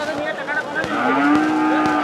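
A calf on a cattle farm in Chattogram, Bangladesh, moos loudly several times in quick succession, drawn-out bleating calls close to the listener.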